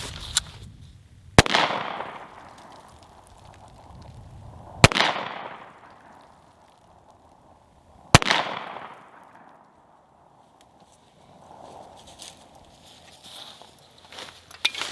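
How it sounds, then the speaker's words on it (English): Three loud Glock pistol gunshots fired outdoors, evenly spaced several seconds apart, each a sharp crack followed by a long echoing decay, with quieter shuffling in between. "I'm going to take a couple shots over here with my Glock just for testing purposes"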